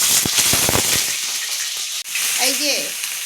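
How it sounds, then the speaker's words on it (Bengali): Cauliflower pieces fry in hot oil with a dense, close crackle and sizzle that eases off partway, and a voice speaks briefly near the end. "এই যে আগে এটা ভেজে নেব একটু"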